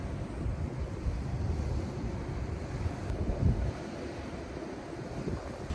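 Low rumbling buffeting of wind hitting the microphone on a windy lookout in Porto, Portugal, steady and close, with a slightly stronger gust midway.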